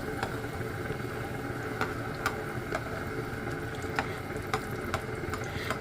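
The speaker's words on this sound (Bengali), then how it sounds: "আর এই যে বেগুনি ভাজা করতেছি।" Steady bubbling sizzle of eggplant fritters deep-frying in oil, with occasional sharp crackles and pops over a constant low background hum.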